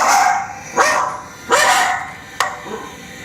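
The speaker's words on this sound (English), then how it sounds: "they were both barking, and one has a high" Two excited dogs, one with a high-pitched bark, giving three or four loud, close, sharp barks spaced under a second apart, some ringing on with a rising whine.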